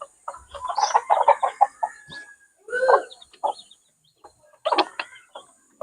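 Newly hatched chicks and chickens in a backyard gamefowl breeding pen, giving bursts of close, clucking calls and soft peeping chatter with short pauses between.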